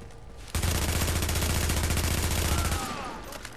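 Continuous rapid gunfire from a shotgun fight in The Division, loud and close, with a dense rattling burst lasting over two seconds before cutting off abruptly, no voices.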